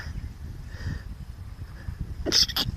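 A single short, sharp sneeze bursts out near the end after a quiet stretch of faint background rustle.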